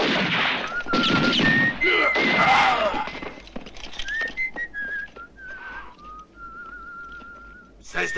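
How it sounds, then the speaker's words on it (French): A person whistles a short wavering melody in bright, sustained notes, with a few thuds and knocks early on and a brief pause partway through. "Cesse de siffler tout de suite."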